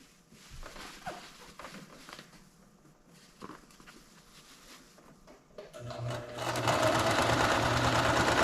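A sewing machine stitches a long seam in fabric for a custom motorcycle tent, starting after a few seconds of quiet handling and fabric rustle, then running as a loud, steady, rapid close-up whir to the end.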